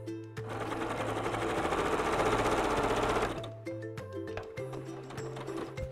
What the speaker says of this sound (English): So one more little section to sew on, and I'm ready to move on.